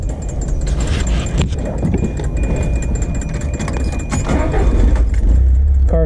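Keys jingle, then a 1981 Fiat Spider Anniversary Edition resto-mod is started, its engine catching and running as a steady close rumble with no talk.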